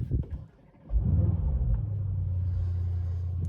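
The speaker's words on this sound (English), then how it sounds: "Let me just start up here the car." A 2021 Mercedes-AMG E63 S sedan engine starts with a short starter crank, then bursts into a loud V8 flare before settling into a deep, steady idle rumble heard close up from inside the car.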